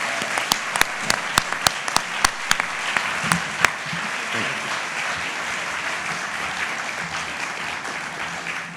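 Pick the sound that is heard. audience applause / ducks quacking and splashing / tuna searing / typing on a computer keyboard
audience applause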